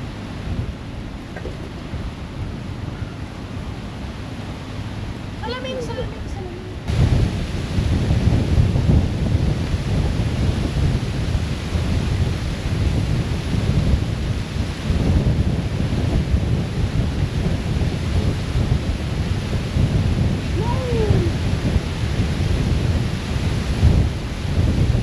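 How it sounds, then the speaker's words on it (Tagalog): A heavy thunderstorm in San Juan, Batangas, with steady dense rain and rumbling thunder that swells sharply after a quieter start, wind buffeting the microphone throughout. "Bagyo na, bagyo."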